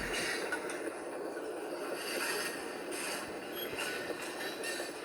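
A train car rolls steadily along rails in a train and rail yard simulator game, with a continuous rumbling hiss and occasional metallic clatter, no voices.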